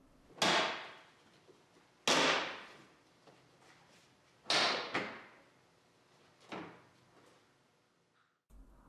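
A plastic bumper cover comes off a Toyota Sienna in four sharp, fairly loud snaps and clunks spaced about two seconds apart, each fading quickly, with quiet between them.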